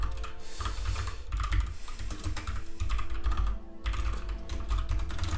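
Rapid, continuous clatter of typing on a computer keyboard, close and fairly loud, with brief pauses between bursts and no talking.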